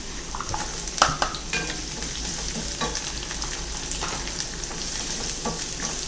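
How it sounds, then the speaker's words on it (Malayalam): Chopped onion, ginger and garlic sauté in a pan with a continuous bright sizzle, broken by scattered clicks and scrapes of stirring; no voices. "ഇതെല്ലാം നമുക്കൊന്ന് വഴറ്റിയെടുക്കാം"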